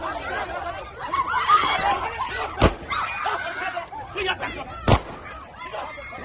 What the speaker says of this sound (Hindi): हवा में ये फायर करते हैं, हवाई फायरिंग करते हैं